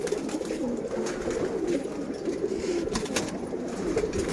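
Pigeons cooing continuously at close range, a steady layered murmur of low throaty coos from several birds with no talking.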